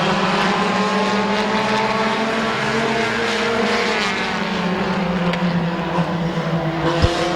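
Race cars at a speedway race at Midvale Speedway, engines droning loud and continuous as the field roars past, a dense layered whine that stays steady throughout.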